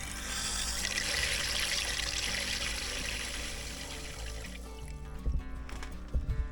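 Water rushes into a whole-house water filter system in a crawl space as it charges, a steady loud hiss of flow that gives way to gurgling, trickling and a few knocks.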